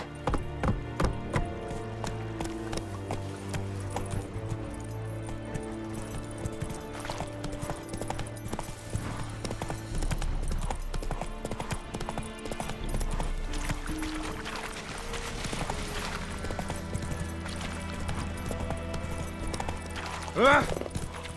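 Geralt's horse Roach galloping in The Witcher 3, steady rhythmic hoofbeats close by over a continuous musical score, with brief voice sounds and a louder burst near the end.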